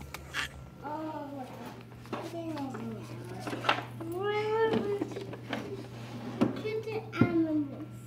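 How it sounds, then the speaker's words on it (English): A cat meows several times in rising, drawn-out cries, close by, while a voice and kitchen clatter carry on around it. "Kitty cat."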